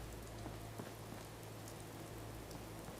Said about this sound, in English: All right, we're back, and it's raining.